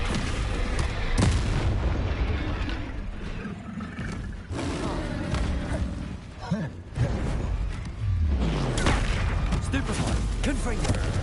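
A Descendo spell is cast during Hogwarts Legacy combat, producing heavy magical booms and crashing impacts, dense and loud, in a run of repeated blasts with brief dips between them.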